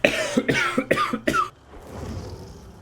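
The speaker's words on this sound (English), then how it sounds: "just muting for a cough there" Four sharp coughs in quick succession, close and loud, followed by quiet room noise.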